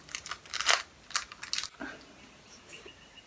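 Crunching bites and chewing of a slightly melted green Japanese Kit Kat wafer bar, a run of close, crisp bursts over the first couple of seconds that fade into quieter chewing.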